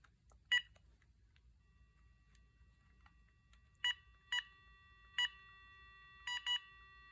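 A GE telephone on a testing phone line gives short DTMF keypad tones, a scattered handful of distinct beeps, some in quick pairs, over faint background hum, with a steady dial tone lingering between presses.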